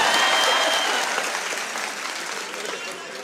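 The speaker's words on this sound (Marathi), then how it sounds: "एकदा टाळ्या होत्या साहेबासाठी" A crowd at a student career guidance gathering breaking into applause, dense clapping that starts strong and slowly fades over a few seconds, with voices faintly mixed underneath.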